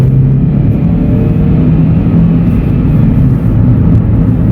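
A 1998 Vauxhall Astra 1.6 LS Mk4 with the 8-valve engine revving, a loud, steady droning hum heard from inside the car, constant throughout with no talking.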